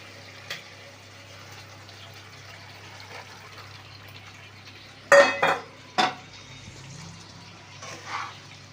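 Pointed gourd pieces drop into a pan with ground coriander, chilli, turmeric and salt, giving a couple of sharp clattering bursts near the middle against a faint quiet kitchen background.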